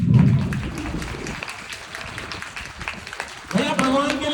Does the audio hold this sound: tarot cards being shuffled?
no